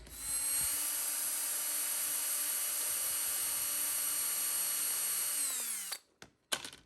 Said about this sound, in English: And now I just got to do my best to drill in straight.